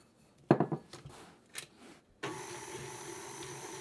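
An electric stand mixer creams butter and sugar for a 1931 sour cream devil's food chocolate cake, switching on partway through after a few clattering knocks, then running as a steady, even whir.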